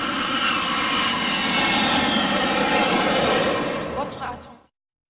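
Steady airplane cabin engine drone during a flight, a loud, continuous broadband roar holding level for over four seconds before cutting off abruptly, with faint voices under it.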